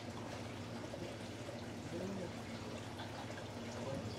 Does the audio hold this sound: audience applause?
no